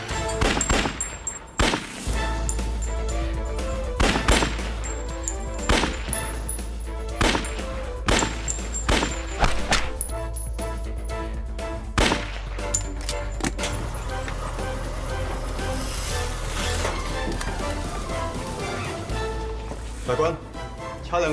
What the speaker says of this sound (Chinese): 实弹射击冇 miss 冇失误，